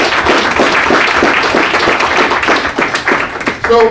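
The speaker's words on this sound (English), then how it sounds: "Let's give these brothers a wonderful round of applause." Crowd at a fraternity chapter achievement week event gives a round of applause, with close, distinct individual claps forming an uneven rhythm, and a voice starts speaking just at the end.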